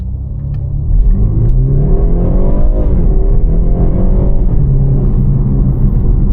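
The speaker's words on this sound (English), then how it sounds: "Let's quickly show you the acceleration from this engine" A 2022 BMW 430i Gran Coupe's engine pulls hard under acceleration, a loud, steady rising drone with climbing harmonics, briefly easing near the middle and then building again, heard close from inside the cabin.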